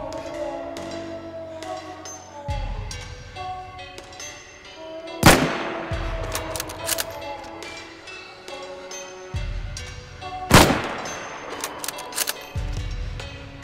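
Gunfire in the video game DayZ during a one-versus-three PvP fight: two sharp, loud shots about five seconds apart, each with a booming tail, over quieter background game sounds.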